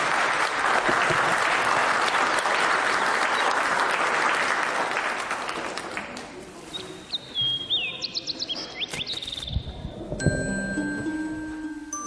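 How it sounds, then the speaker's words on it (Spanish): Sustained loud applause from an audience at a religious doctrine conference hall, dense and steady for about six seconds before fading, followed by scattered bird-like chirps and brief electronic tones. "Aplausos para él, hermanas y hermanos."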